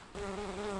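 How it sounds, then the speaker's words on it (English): Bees buzz steadily outdoors beside a lake and creek at a backpacking campsite, a close, continuous droning hum that begins abruptly and holds without talk. "the bees are here to help me make my coffee"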